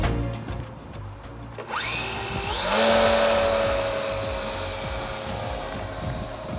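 A Valenta Volcano RC plane takes off on its maiden flight. After a low rumble the electric motor whine climbs sharply, then holds as a loud, steady high-pitched drone as the plane flies off, with faint background noise underneath.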